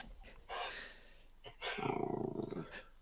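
A female dog gives a low, rumbling growl, a short burst and then a longer pulsing stretch, fairly close and moderately loud.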